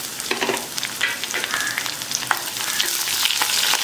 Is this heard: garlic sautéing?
yes